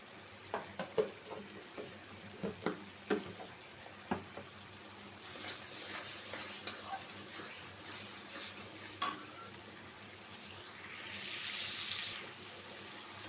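Spice paste sizzles softly in a pan for a potato and puti fish curry, with a spatula stirring and scraping through it in repeated clicks and a steady low fry throughout.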